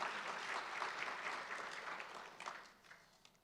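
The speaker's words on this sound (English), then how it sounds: "Give them a round of applause." Audience applause for major RPAC investors standing at a 2021 residential real estate market review event, a steady wash of clapping from a large crowd that gradually fades out.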